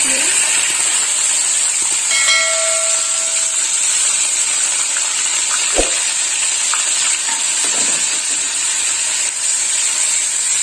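Onion paste fries in hot oil for an egg masala curry, a loud, continuous, close sizzle that holds steady throughout, broken once by a single dull knock.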